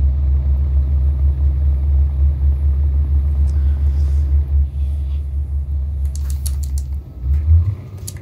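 A truck engine fitted with a Kurt exhaust in Euro Truck Simulator 2 rumbles at idle with a deep, steady low throb, briefly revving near the end.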